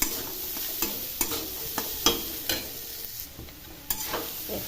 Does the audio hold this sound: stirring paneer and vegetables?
yes